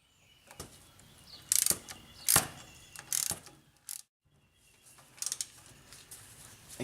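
A ratchet tightening a tie rod end on a 2005 Ford F250, with bursts of rapid clicking pawl strokes close up separated by short pauses and a brief silence midway.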